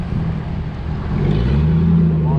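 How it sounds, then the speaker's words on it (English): A car on the road approaches and swells in loudness, its steady engine and tyre roar broad and close, with the hum rising toward the end and heard against outdoor wind rumble. "That car's coming."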